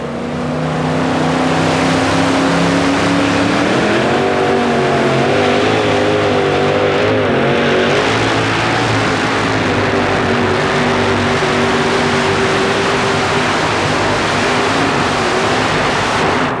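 A Ford 4WD pulling truck, Killer 2, makes a run at a Tampa Stadium truck pull. The engine roars loud and continuous, its pitch climbing and wavering as it strains down the track over crowd noise.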